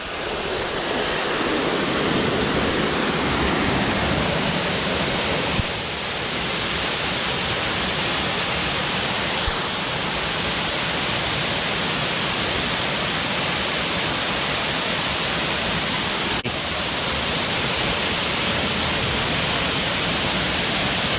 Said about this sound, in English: You probably can't hear me anymore because I'm so close to the falls.